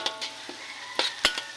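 Garlic and onion frying in a pan until browned, a soft steady sizzle broken by a few light stirring scrapes and clinks, fairly quiet and close with no talking.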